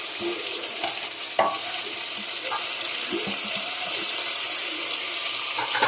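Onions, tomatoes, coriander and mint are stirred in a pan for chicken biryani, a steady close scraping and soft sizzle with a few sharper clicks of the spoon against the pan, no voices.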